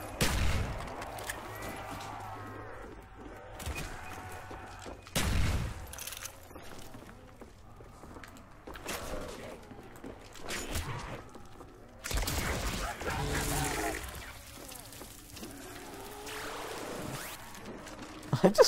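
Gunfire in Call of Duty zombies on the Shi No Numa map, with several loud bursts of shots separated by quieter game ambience and effects, and some speech mixed in underneath.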